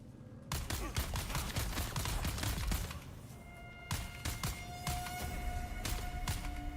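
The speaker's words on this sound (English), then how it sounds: "I'm shooting the dude in the face." Rapid bursts of gunfire crackle in the Dune survival game, inside a broken-down spaceship. Dense volleys of sharp shots run almost nonstop, with a brief gap partway through before more clustered shots, and a faint whine sits underneath.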